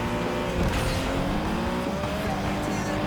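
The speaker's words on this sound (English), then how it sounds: "A little bit of drifting here." Racing car drifting in the game Flatout: Ultimate Carnage, a continuous revving engine with rising pitch sweeps and a steady tire-squeal wash, heard alone at moderate level.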